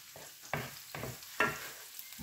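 Garlic and onion sauteing together in a pan, stirred in four distinct scraping bursts over a soft, steady sizzle, close and moderately quiet.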